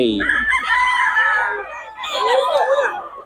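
A rooster in Bocaue crows loudly and close by. It gives one long crow, pauses briefly, then crows a second time, and the voices are clear and strained.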